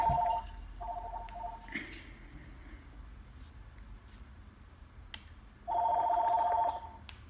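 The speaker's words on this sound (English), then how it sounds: "You got your phone ringing? Sorry about that." A telephone rings in a room during a wrestling news broadcast: three bursts of a bright electronic trill, two close together at the start and a louder one near the end, with low background murmur between.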